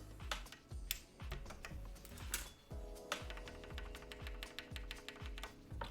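Typing on a hiney TKL One prototype mechanical keyboard, with close, quiet, irregular key clacks tapping in quick bursts and a faint hum underneath.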